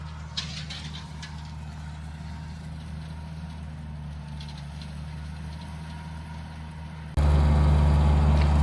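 A tractor engine clearing land for food plots on a hunting property, a steady low droning rumble held for several seconds before jumping abruptly louder and harsher near the end.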